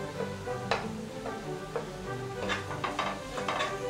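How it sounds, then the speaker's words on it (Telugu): Chana masala spices are stirred in a frying pan, with a low sizzle under repeated spoon scrapes and light metallic clinks against the pan, close by and with no speech. "వేసి బాగా కలపాలి."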